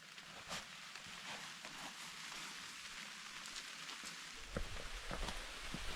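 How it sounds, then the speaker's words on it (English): Rain falls steadily during a hike in northern New Zealand, a soft, even hiss with scattered drips and patters close by, and a few heavier rustles near the end. "It is certainly raining."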